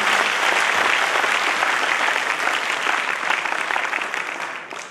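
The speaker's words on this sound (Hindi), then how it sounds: "ताली बजाओ।" An audience at a motivational lecture bursts into loud, dense applause, a sustained roar of many clapping hands that tapers off near the end.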